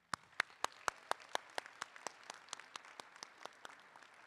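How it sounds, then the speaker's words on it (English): Sparse, evenly spaced claps at a nursing school commencement ceremony, a single clear clap pattern repeating about every quarter second, fairly faint and alone. "Let's give a round of applause for our two distinguished alumni."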